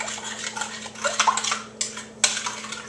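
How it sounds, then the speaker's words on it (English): A utensil scrapes and clinks against a bowl while garlic powder and paprika are stirred into butter, a few quick, close, uneven strokes with short pauses and no talking. "stir it up into the butter"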